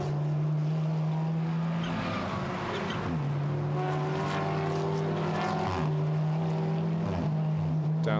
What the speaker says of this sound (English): You can listen to them to go over the rumble strips, hear the engines, hear the tyres bleating away